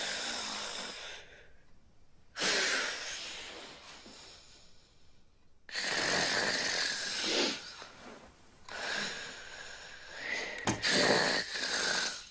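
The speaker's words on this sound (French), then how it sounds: "Vous savez que vous ronflez?" A person snoring in a bedroom, with three loud, drawn-out rasping breaths separated by quieter gaps. Each snore has a noisy, wheezy edge. No one speaks.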